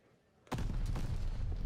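Grenade blasts in a Call of Duty League match, Boston Breach versus LA Guerrillas: a quiet lead-in, then a sudden loud boom followed by sustained heavy explosive rumble and crackling gunfire.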